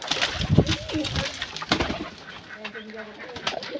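Soft cooing of a female pigeon close by in a pigeon house among rustling and shuffling, with a voice speaking briefly partway through.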